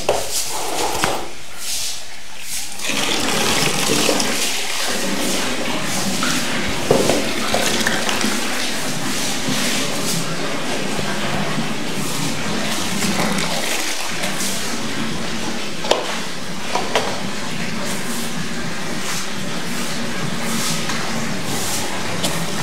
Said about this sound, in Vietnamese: Em cứ đổ xả vòi nước đi.